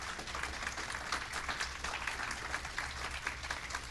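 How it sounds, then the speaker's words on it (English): A crowd applauds steadily, a dense wash of many hands clapping together with no voices standing out above it. "go ahead and give him a hand clap, please."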